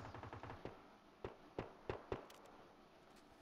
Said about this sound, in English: I already hear shots.